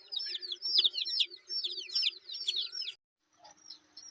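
Small chicks and hens in a village poultry area, a dense, close flurry of high peeping chirps for about three seconds, then a pause and a few fainter peeps.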